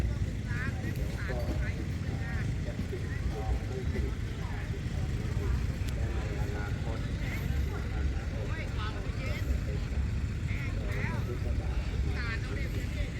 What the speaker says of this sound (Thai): เครื่องยนต์ดีเซล อู้เครื่องใหญ่มากครับ